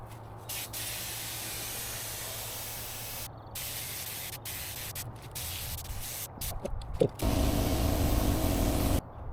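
A spray gun lays down Duratec gelcoat mixed with MEK in a long continuous hiss, broken by short pauses between passes, growing louder and rougher toward the end.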